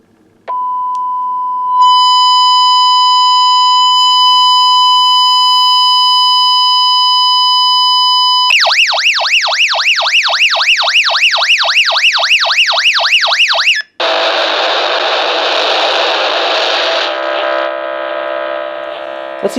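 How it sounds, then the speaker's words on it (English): A BaoFeng GT-3WP handheld radio sounds its emergency alarm: a loud steady beep tone, then a rapid warbling siren sweeping up and down, followed by a harsher buzzing alarm tone, all continuous and close with no talk. "this is the emergency alarm"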